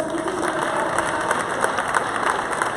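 Audience applause at a Galician equestrian gala, steady dense clapping with scattered louder claps throughout, over a constant low hum of the venue.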